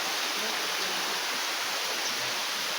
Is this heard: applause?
no